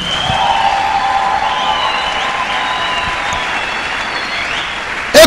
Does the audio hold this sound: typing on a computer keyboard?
no